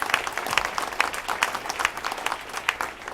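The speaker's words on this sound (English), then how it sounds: "Okay, let's give them a round of applause." Luncheon audience at a city's State of the City event giving a round of applause, steady lively clapping from a moderately sized crowd in a room, continuous throughout.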